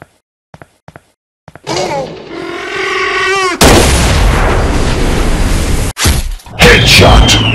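A gunshot from a hunting rifle in a dinosaur hunting mobile game, opening with a few faint clicks before a booming, loud shot cracks out and rolls into heavy rumbling blasts, then a second sharp report.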